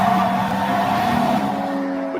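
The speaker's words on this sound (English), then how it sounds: "could he hear the oath amid the sound of screeching tires?" Cars doing donuts in a circle make a sustained, loud screech of tires over a steady engine roar that continues throughout.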